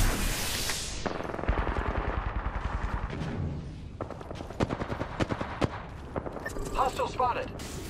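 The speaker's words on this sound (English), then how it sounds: "Open fire on the enemy. I am taking fire, friend." Sustained video game battle gunfire rattles in rapid automatic bursts, dense and fairly close, with heavier blasts and a synthetic game voice mixed in over the shooting.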